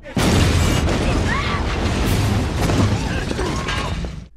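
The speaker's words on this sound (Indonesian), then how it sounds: "Tiba-tiba saja mobil yang dikendarai oleh Ginny langsung meledak." A car blows up in a film scene: a loud, close burst swells into a long roaring rumble with debris and shrill tones mixed in, fading out after about four seconds.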